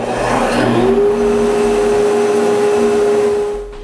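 A small cyclone dust collector in a woodworking shop runs with a strong steady whine and airy rush, its tone rising briefly at the start then holding level before fading near the end.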